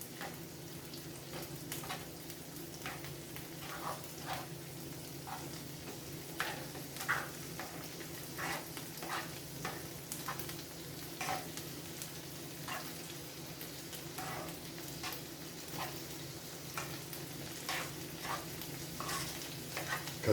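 Chorizo and egg frying in a skillet, a quiet continuous sizzle broken by repeated light scraping clicks of a utensil as the mixture is stirred, no one talking.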